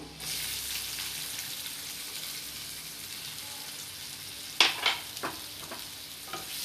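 Chopped onion goes into hot oil with a little turmeric, giving a faint steady sizzle, then a few sharp crackles and spatters followed by softer pops as it settles.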